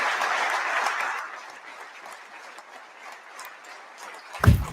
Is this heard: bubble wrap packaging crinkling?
no